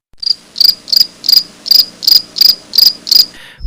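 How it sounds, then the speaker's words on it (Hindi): Insects chirp loudly at night near a railway station quarter, nine evenly spaced shrill pulses repeating in a steady rhythm, close and alone. "रात बढ़ने के साथ साथ जुगनुओं की आवाज तेज होती रही।"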